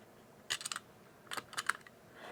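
Scissors snipping through a sheet of acetate while making a junk journal pocket, a few quick crisp cuts in two short clusters, close and fairly quiet with no talking.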